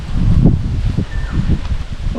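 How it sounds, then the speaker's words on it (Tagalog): Soft wind blows across open rice fields in Tayabas, a gentle breathy rustle with faint gusts and a brief distant bird call, no talking. "Sarap ng simoy ng hangin dito, sariwang-sariwa"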